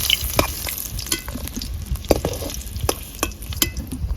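Diced new potatoes sizzle and fry in hot oil as a spoon stirs them, with steady close crackling and frequent sharp scraping clicks against the pan.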